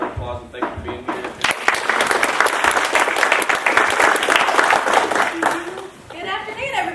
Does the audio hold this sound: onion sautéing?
no